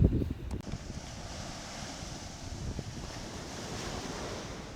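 Ocean waves wash onto the beach at Cape May, a soft steady surf rush mixed with wind noise on the microphone, with a brief louder bump at the start and no voices.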